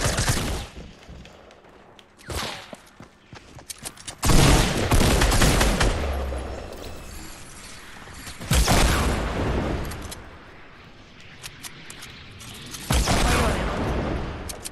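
Video game gunfire in a duos match comes in several loud bursts of rapid shots and booms, close and separated by short lulls.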